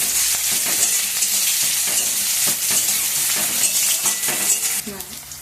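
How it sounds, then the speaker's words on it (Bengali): Onions fry in hot oil until browned, a loud, continuous sizzle with a spatula stirring and scraping the pan close by. "এবার তেলে কি পেঁয়াজ দিয়ে দেবো পেঁয়াজটা লাল করে ভেজে নেবো"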